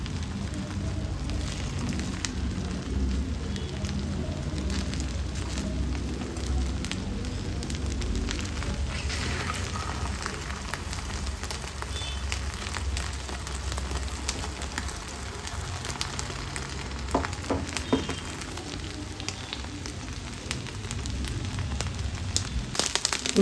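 Eggs frying in a pan for egg chilli, a steady soft crackle and sizzle of hot oil that continues unbroken throughout, close and moderately loud with no talking.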